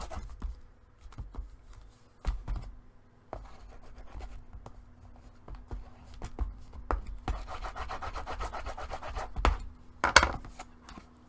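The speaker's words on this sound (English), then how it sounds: "I'm going to burnish that, making sure the corners are down real well" Paper corners of a homemade popcorn dispenser box are burnished down with repeated rubbing and scraping strokes, short and close, growing denser toward the end with a few louder scrapes.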